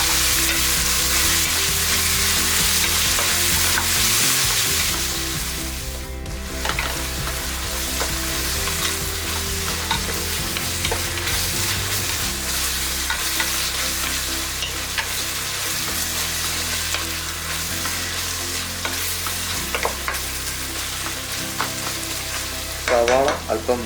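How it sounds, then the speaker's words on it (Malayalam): Onions sautéing in a pan for mutton dum biryani, a steady close sizzle and fry with stirring scrapes throughout, briefly dipping midway before settling into a continuous crackle. "നന്നായി വഴറ്റി കൊടുത്തുകൊണ്ടേയിരിക്കും."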